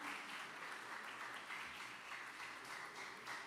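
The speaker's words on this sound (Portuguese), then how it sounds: "Pode aplaudir o seu na vida do Serginho" Audience at a Portuguese-language church or motivational gathering gives a round of applause, a faint, distant, steady wash of clapping from across a large room.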